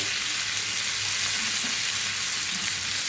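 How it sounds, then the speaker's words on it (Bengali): Onions and potatoes, with whole garlic cloves, frying together in a pan, giving off a steady, even sizzle that holds at a constant level for the whole stretch, with no voices. "ফ্রাই করে নেব অর্থাৎ ফ্রাই মানে কষিয়ে নেব"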